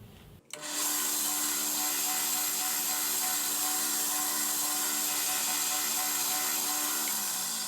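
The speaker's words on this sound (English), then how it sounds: "then from there we go to my Glanzwatch wheel, and we will put a little shine on it" Buffing wheel spinning up and polishing a Srixon 545 golf club head with a high-polish compound: a steady, loud whirring hiss that kicks in after a brief pause and holds unbroken, with no talk.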